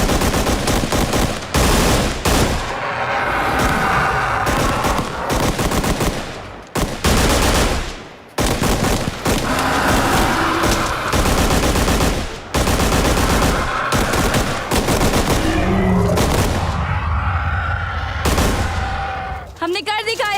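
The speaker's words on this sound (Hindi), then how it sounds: "गोलियां दागने के लिए तैयार" Sustained bursts of machine gun fire crackle loudly in a Hindi-dubbed desert creature movie, with rapid rattling volleys separated by brief pauses and a few short spoken lines between them.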